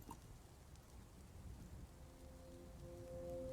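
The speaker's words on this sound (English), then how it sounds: "Oh, must be raining outside." Steady rain falls in the video game Dwarf Fortress, a faint, soft, continuous hiss of rainfall with a low rumble underneath and no talking.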